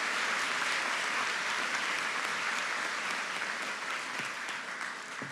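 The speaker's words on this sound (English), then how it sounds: "So a big round of applause for the Bachelor of Arts in Education, Gaeilge and Religious Studies from MIC Thurles." Steady, fairly distant applause from a graduation ceremony audience at MIC Thurles keeps going without a break and fades slightly toward the end.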